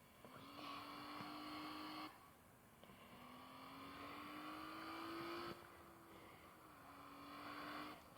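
A car engine in the video game Taxi Sim 2016 drones and revs in long, steady tones, dipping briefly between gear changes and rising again, loud and close with no talk.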